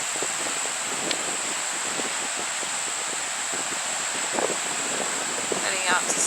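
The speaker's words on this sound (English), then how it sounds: "it's very windy." Wind buffets the microphone in a steady broadband rush, with a few gusty thumps and a voice briefly audible near the end.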